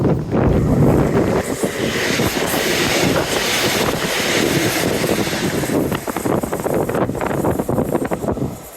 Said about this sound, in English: So windy I can barely even hear my podcast.